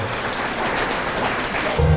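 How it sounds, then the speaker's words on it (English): A short burst of applause at an award presentation, a crowd clapping in a dense, steady patter that sounds almost like rain, with a low rumble rising at the end. "Please do one more big round of applause, ladies and gentlemen."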